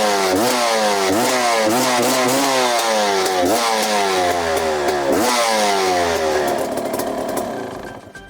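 A KTM 250 EXC two-stroke motorcycle engine runs close by, revving repeatedly in rising and falling pulls before dropping to a lower idle and fading at the end.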